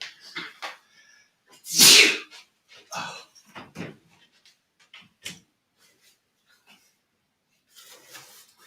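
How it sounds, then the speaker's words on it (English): A single loud sneeze bursts out, surrounded by quiet murmured talk and small shuffling noises in a calm room. "I have to sneeze."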